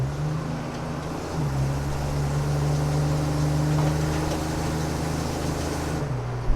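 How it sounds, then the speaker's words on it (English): Engine of a 1962 Willys Station Wagon humming through a Cherry Bomb muffler while driving, a steady low droning tone that holds evenly and shifts slightly in pitch partway through. "That cherry bomb, it just hums"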